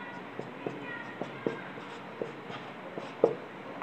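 Pen strokes on paper while writing out a geometry proof for a circles theorem, a series of light scratchy taps at uneven intervals, close and faint over quiet room noise.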